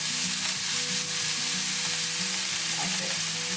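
Sliced onion sizzling loudly in a hot pan, a steady close hiss of frying with faint stirring scrapes underneath, no voices.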